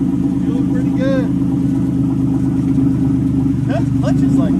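Nissan Xterra race truck on its first test drive with new transmission, a steady loud mid-pitched engine drone running throughout, with faint voices and short chirping sounds over it.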